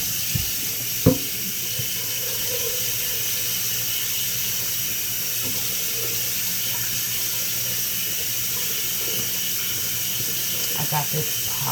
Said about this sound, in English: I'm going to rinse my pot out first because I don't play that.